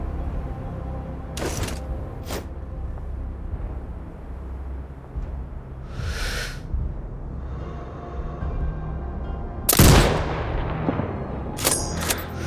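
Rifle shots in the Sniper Ghost Warrior Contracts 2 video game, a few sharp cracks spread across a steady low background rumble, with one louder blast near the end.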